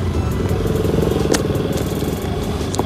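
A motorcycle engine runs steadily nearby while bikes are taken down an off-road slope, a constant rumbling drone with occasional clattering and crackles, no talking.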